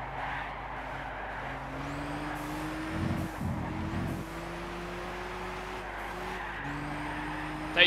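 Race car in Gran Turismo 6 skidding around a track, with a steady engine drone, tire squeal rising and falling in pitch and a brief louder burst midway, continuous and fairly loud with no talk.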